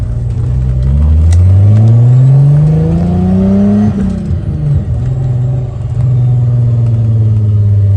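A spin car's engine revs loudly at a burnout event, rising steadily in pitch, drops back, then settles into a sustained high-revving drone close by.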